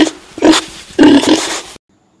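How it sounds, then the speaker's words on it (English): A pig oinks in two loud grunting bursts, close and alone, ending in silence. "Pig oink."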